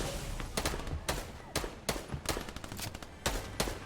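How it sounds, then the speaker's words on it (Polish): Repeated sharp gunshots in Fortnite, about eight cracks at irregular intervals, loud and close, with faint background noise between them. "Ej, bo ja słyszę strzały, nie wiem gdzie kompletnie."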